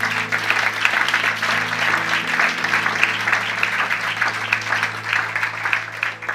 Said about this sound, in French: Acclamons pour eux, s'il vous plaît.